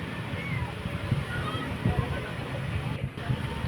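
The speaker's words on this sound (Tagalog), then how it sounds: "medyo malakas nga ang tulo nito." Water leaks from a Sharp washing machine with a faulty gasket and spring, giving soft irregular splashes and sloshing close by while someone talks over it.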